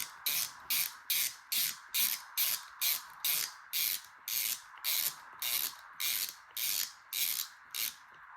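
A ratcheting tool tightens the steering on an FTX DR8 RC car, giving about fourteen evenly spaced, close, crisp clicking strokes in a steady back-and-forth rhythm.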